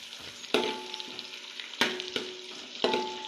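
Onions fry in a pan for chicken biryani, a steady close sizzle broken by three sharp scraping stirs of a spatula spaced about a second apart, with no voices.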